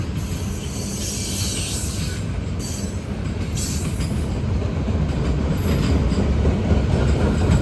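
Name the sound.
Norfolk Southern freight train with four locomotives passing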